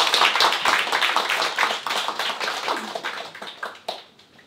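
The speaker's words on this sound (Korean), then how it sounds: "우리 박수 한번 환영하겠습니다." A church congregation claps to welcome a new member during Sunday worship, a lively burst of many hands clapping close by that fades near the end.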